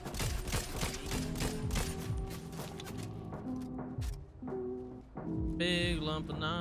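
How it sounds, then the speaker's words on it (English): Rapid bursts of gunfire in Fortnite Chapter 4 Season 1 crack out in quick volleys, loud at first and then more sporadic, over tonal game sounds and effects, with no voices. "Who's shooting at me?"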